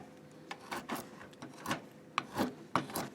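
Hand-carving the wooden cap of a farmer gnome, edges being shaved off: irregular dry scraping and rasping strokes of a blade on wood, close and fairly soft, with no talking.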